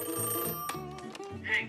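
A telephone rings briefly before an answering machine picks up, a bright electronic bell tone repeating in short bursts, close and clear with no talking.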